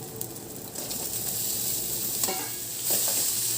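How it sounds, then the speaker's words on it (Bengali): Ash gourd stirred and fried with shrimp and green chillies in a pan, a soft steady sizzle with a few scraping stirs of the utensil, close but fairly quiet, no talking. "এই চাল কুমড়ো দিয়ে দিচ্ছি।"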